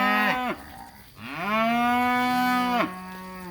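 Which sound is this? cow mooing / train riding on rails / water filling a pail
cow mooing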